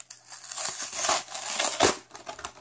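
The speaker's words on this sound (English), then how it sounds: "But it does come in a little crinkly package." A crinkly plastic wrapper on a pack of trading cards is torn and opened up close, giving a continuous loud crackling and crumpling with a few sharper crinkles.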